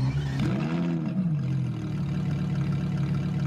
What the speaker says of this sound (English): This car idles amazingly. It sounds so good.